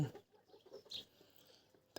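Hens and young roosters cluck faintly in short, scattered bursts against a quiet farmyard background, with one sharper call standing out midway.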